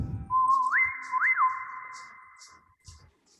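Whistle voice on an electronic keyboard playing a clear, pure whistled tone that slides up and down in pitch twice before holding a sustained note, alone with faint clicks.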